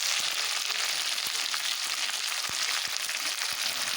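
Cabbage fries loudly in a pan with ginger paste and tomato, a dense continuous sizzle broken by occasional stirring clicks, with no voices.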